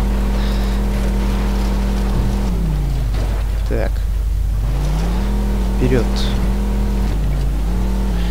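A car in the Mafia 2 video game drives with a steady engine drone that dips and climbs as the gears shift and speed changes, while someone briefly talks over it.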